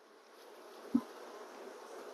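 Honeybees on hive frames hum in a soft, steady buzz throughout, with one brief low thump midway; no one speaks.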